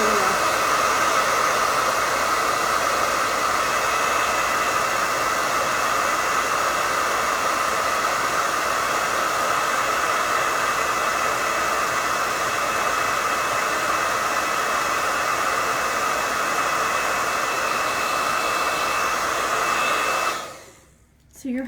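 A hair dryer blows continuously on painted snowman eyes on a rustic sled, a loud steady whooshing hum for about twenty seconds before it switches off at the end.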